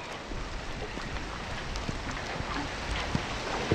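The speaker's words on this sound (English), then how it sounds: "It is freezing rain again, so take a quick gander" Freezing rain patters steadily outside a sailboat, a dense continuous hiss of drops on the deck and surfaces with occasional sharper taps, no talking.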